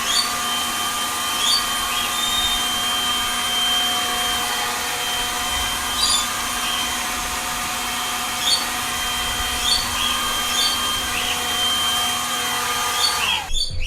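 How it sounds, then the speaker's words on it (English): A Milwaukee M12 cordless leaf blower runs in a steady, continuous whine with an airy rush, holding even loudness throughout and cutting off abruptly at the very end, with faint birdsong in the background. "So even though the Milwaukee sounds like it's the least powerful, it can actually blow from the furthest distance."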